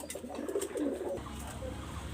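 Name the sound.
pigeons cooing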